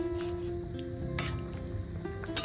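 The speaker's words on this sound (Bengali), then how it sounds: "ভেজে রাখা ডিমগুলো ঝোলের মধ্যে দিয়ে খুব ভালো করে নাড়াচাড়া করে মিশিয়ে নেব" Fried duck eggs are stirred into a simmering cauliflower and pea gravy, with a soft continuous sizzle and gentle bubbling under occasional spoon scrapes and clinks, close and fairly quiet.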